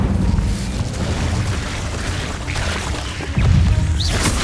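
Incendio fire spell blast in Hogwarts Legacy inside a cave, a sustained loud roaring burst with rumbling low end that surges again near the end, heard alone without speech.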